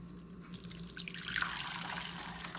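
Liquid poured steadily from a container while cooking pork country-style ribs at a barbecue, a close continuous watery splash and trickle that swells slightly partway through.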